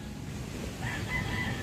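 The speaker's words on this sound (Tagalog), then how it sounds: "bakit may ibon dun" A bird calls outdoors near a boat being stripped of its outriggers, its thin high-pitched notes rising in the second half over a steady low rumble like surf or wind.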